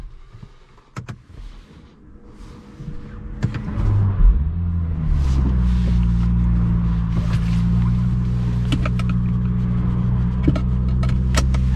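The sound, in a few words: car engine cold start idling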